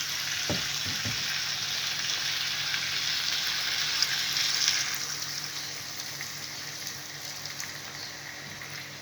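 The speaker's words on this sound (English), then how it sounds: "you can add in some water" Water poured over chicken and potato sitting in curry paste gives a steady hissing, rushing wash that swells then eases and thins toward the end, with no talking.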